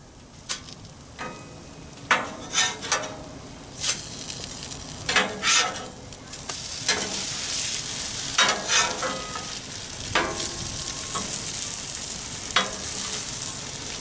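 Frosted Flakes French toast sizzles and fries on a Blackstone griddle, with a steady crackle rising in intensity and repeated scraping and stirring strokes from a spatula, close and fairly loud.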